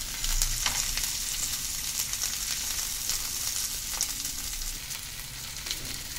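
Bay leaf, black and green cardamom and cloves frying in hot oil for a makhani gravy, a constant bright sizzle with soft intermittent stirring scrapes, close and unbroken, no talk.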